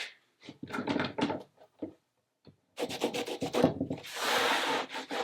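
Wood being sanded by hand during a farmhouse renovation, bursts of close rubbing strokes separated by short pauses, ending in a longer continuous rasp.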